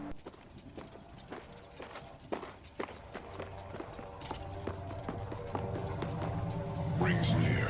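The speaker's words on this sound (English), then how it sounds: "I can hear footsteps." Footsteps run back and forth in a video game, a steady patter of light clicking steps under game music and ambience, with scattered sharp transients and a louder burst near the end.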